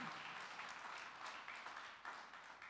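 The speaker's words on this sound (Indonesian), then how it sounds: "Tepuk tangan yang lebih meriah." A church congregation claps in a brief burst of applause, a soft, fairly distant patter that swells and dips slightly throughout.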